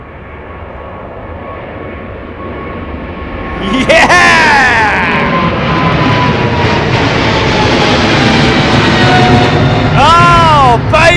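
A jet airliner with a white fuselage roars past very close at London Heathrow, its engine noise swelling loud and sweeping in pitch, while people talk excitedly nearby.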